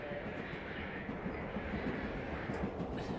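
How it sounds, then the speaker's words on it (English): A train rides on rails with a steady low rumble and faint rhythmic clatter, continuous and moderately loud throughout. "We're on the train."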